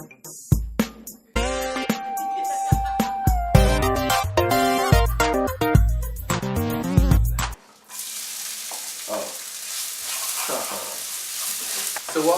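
Chopped onion hits about a tablespoon of hot oil in a pan and sizzles steadily with a bright, crackling hiss, after loud background music cuts away.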